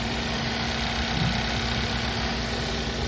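Car engine idling smoothly after a misfire repair, a loud, steady, even hum with a constant low tone and no stumbles or talking.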